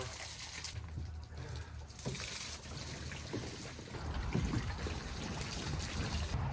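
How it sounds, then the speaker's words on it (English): Water trickles and splashes as it drains out of above-ground pool ladder plugs, a steady close gurgling flow that grows a little stronger toward the end. "pull the plugs and then you can drain the water."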